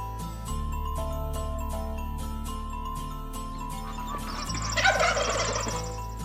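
A wild turkey gobbles, a loud rattling burst near the end, preceded by a continuous low hum and tonal background with faint tinkling.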